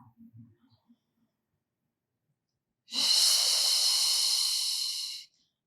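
One long, deep breath is drawn in during a Pilates stretch, a close, airy hiss lasting about two seconds. Before it comes a few soft, low murmurs of speech.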